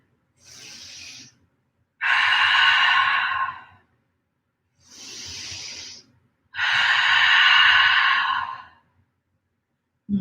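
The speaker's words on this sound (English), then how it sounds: "let's take 3 full rounds of open mouth exhales. So really let it go on the exhale" Open-mouth yoga exhales, two pairs of close breaths, each pair a shorter airy inhale followed by a long loud sighing exhale, separated by silence.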